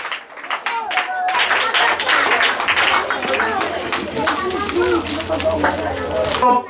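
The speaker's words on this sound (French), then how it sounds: "Applaudissez, chers parents." Parents clap and applaud at a Christmas ceremony at Les Anges du Ciel Christian school in Pointe-Noire, a dense patter of many hands filling the room for several seconds while a voice speaks over it.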